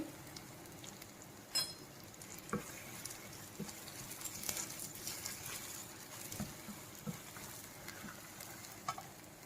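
Chilli powder frying in oil that has separated from a mushroom and cashew curry base, a soft steady crackle and sizzle with light spoon scrapes and small pops, fairly quiet.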